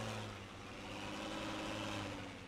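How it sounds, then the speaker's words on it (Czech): A tractor engine roars steadily in the Farming Simulator 19 video game, a continuous low mechanical drone at constant pitch, fairly quiet, with no speech. "Celkem řeve ten traktor."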